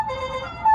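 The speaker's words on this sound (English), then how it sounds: "I actually also put on the La Cucaracha horn sound." Custom car horn playing the La Cucaracha tune, a short burst of bright electronic tones with a rising final note, close and without talk.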